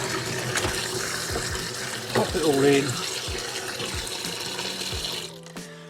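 Hot water with disinfectant runs into a removed under-sink trap, a steady splashing pour under a voice, ending abruptly near the close.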